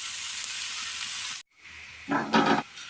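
Chopped onion and brinjal sautéing in a pan for a Kerala curry: a steady hissing sizzle that cuts out briefly, then returns quieter with a couple of louder stirring bursts.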